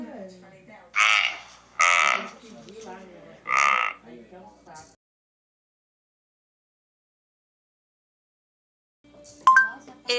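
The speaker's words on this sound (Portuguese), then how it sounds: "Isto é um veado da cauda branca ou cariaço." A white-tailed deer gives three loud, nasal, bleating calls in quick succession, followed by a few softer sounds. Several seconds of silence follow, then a brief electronic chime.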